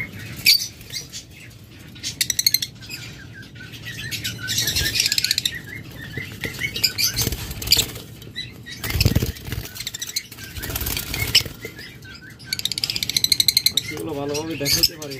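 Pet-trade lovebirds in a cage give scattered high chirps and tweets with bursts of wing fluttering and scratchy movement, while someone talks over them throughout.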